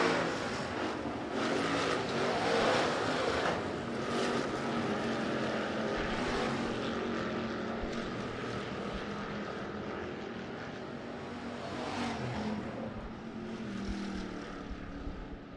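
Hobby stock race cars lapping Rapid Speedway during a heat race, a loud continuous engine roar with passing surges and fades as cars go by.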